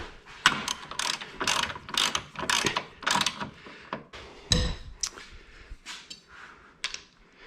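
A hand ratchet clicks in repeated quick bursts with brief pauses while tightening an Ultra Racing strut bar during installation on a car, close and clear with no talking.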